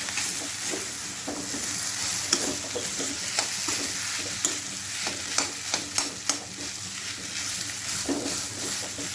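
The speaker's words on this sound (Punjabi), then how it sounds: "ਹੁਣ ਮੈਂ ਇਹਨੂੰ ਅੱਛਾ ਵਾਰ ਕੇ ਉਹਨੂੰ ਚੰਗੀ ਤਰ੍ਹਾਂ ਮਿਕਸ ਕਰ ਲਵਾਂਗੀ" Spiced potatoes coated in dried fenugreek are stirred in a hot pan for a dosa filling, with steady frying sizzle and repeated scraping, clacking spoon strokes close by, no voices.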